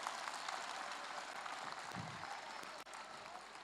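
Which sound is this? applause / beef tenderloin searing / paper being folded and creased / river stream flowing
applause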